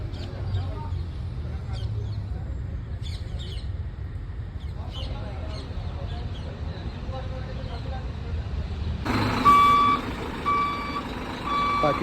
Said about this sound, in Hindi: पार्किंग में रिवर्स कर रहे हैं